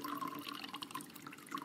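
Water pours steadily in the video game Routine, a continuous splashing, trickling stream heard alone at fairly low level for under two seconds.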